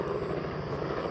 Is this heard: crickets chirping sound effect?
no